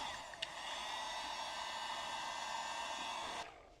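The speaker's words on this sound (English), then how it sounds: "I'm going to get the heat gun and see if I can limber it up." A heat gun blows hot air onto jelly beans as a steady, loud rushing whir that runs for about three seconds and then cuts off abruptly.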